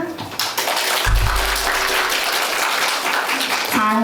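Students at a university foreign-student speech contest give the judges a big round of applause, a dense wash of clapping filling the hall with a brief low thump and a voice near the end.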